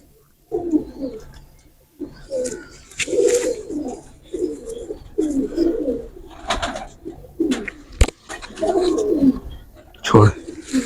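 Young teddy pigeon chicks cooing close by in a series of soft, throaty bursts, with short breaks between calls and a faint chirp near the end.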